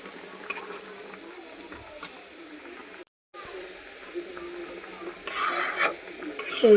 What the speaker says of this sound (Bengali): এই যে আমি তরকারিতে এখন ঝোল দিয়ে দিছি।